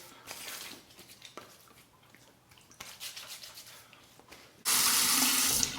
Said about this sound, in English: Finishing up with cold water from the tap, as cold as it can get.